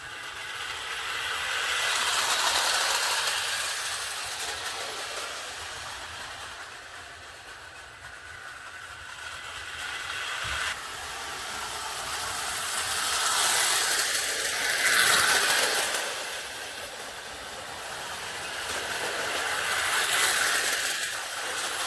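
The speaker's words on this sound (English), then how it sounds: "So we're going to run it for the first time with its train." A restored vintage Marx Mercury toy train runs on a layout, a continuous whirring motor and clattering wheels that rise and fall in loudness as it circles past.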